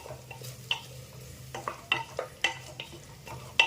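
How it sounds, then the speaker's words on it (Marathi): Green peas and mixed vegetables are stirred as they fry in oil for a Khandeshi masala khichdi, with a steady low sizzle beneath a series of distinct scraping strokes of a spoon against the pan, close and clear, without talk. "हिरवा वाटाणा ते देखील परतून घ्यायचं आहे चांगलं दोन मिनटासाठी ह्या भाज्या आपल्याला चांगल्या तेलामध्ये परतून घ्यायच्या आहे"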